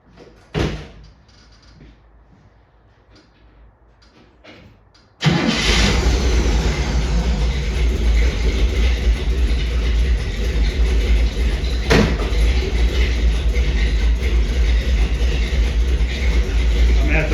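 A 1959 Chevrolet Impala convertible with carburetors cranks and catches at about five seconds, then a loud, steady engine idle runs close by to the end, after a quiet stretch of faint clicks and a door-like thump.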